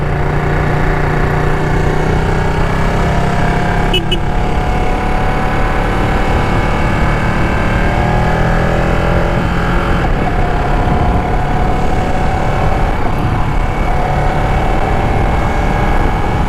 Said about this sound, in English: I have kept the motorcycle in the sport mode